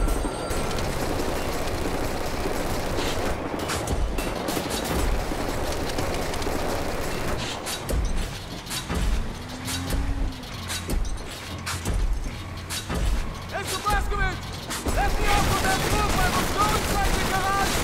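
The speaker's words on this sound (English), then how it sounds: "Who the fuck is shooting at me?" Gunfire in the video game Wolfenstein: The New Order at Camp Belica, dense bursts of automatic weapon fire and explosions, loud and continuous with a brief lull midway, while a player talks occasionally.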